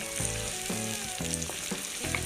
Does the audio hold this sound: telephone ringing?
no